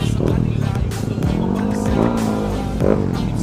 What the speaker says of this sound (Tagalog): Ingay kasi ng motor.